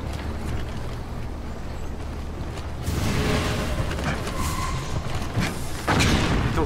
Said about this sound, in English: He throws bombs.